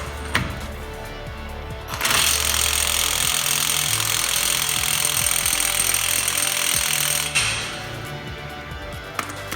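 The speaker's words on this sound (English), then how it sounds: "this is an impact gun with a 32mm socket" An impact gun with a 32mm socket hammers loudly and continuously for about five seconds, trying to remove a bolt from a Honda D15B8 transmission. A few short bursts come before the main run and after it stops.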